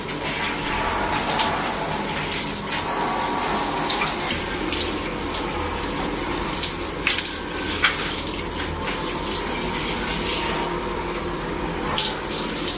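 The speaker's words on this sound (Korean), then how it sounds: "이제 물 한번 샤워기에 쫙 뿌릴 거예요" A shower head sprays water steadily over air conditioner parts during a self-cleaning of a system air conditioner, a continuous broad hissing gush that stays loud and even throughout with no talk.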